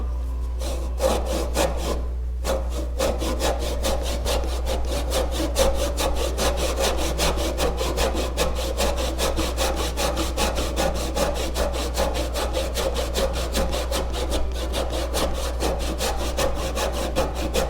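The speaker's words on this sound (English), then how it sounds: "So right now we're going to just saw down on the dovetail." A hand saw cuts down through the end grain of a wooden dovetail joint for a tilt-top table reproduction, giving steady rhythmic rasping strokes that continue close and loud throughout with no talking, over a constant low electrical hum.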